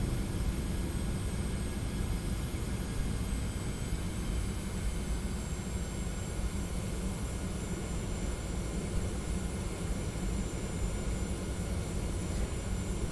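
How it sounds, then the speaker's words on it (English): Boeing 717 twin jet engines in a gentle climb at night on approach to Innsbruck Airport, heard from the cockpit in a flight simulator: a loud, steady broadband roar that stays constant throughout with no speech. "the aircraft's in a gentle climb now"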